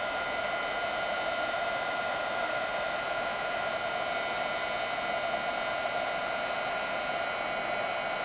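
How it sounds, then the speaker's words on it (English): A Marvy heat tool blows steadily, melting gold embossing powder on ivory cardstock, a constant close whooshing hiss like a small hair dryer that holds level without a break and with no speech over it. "now I'm going to heat that up using my Marvy heat tool"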